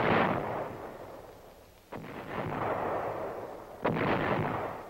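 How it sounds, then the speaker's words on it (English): Artillery fires in a military training film, with three heavy booming blasts each followed by a long rumbling roll, loud and reverberant and evenly spaced about two seconds apart. "he would contain this enemy force with artillery"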